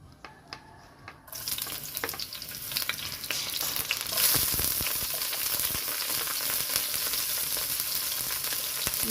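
Onion and garlic being sautéed in a pan, starting with a few quiet taps before a loud, steady sizzle takes over and continues close by. Nobody speaks.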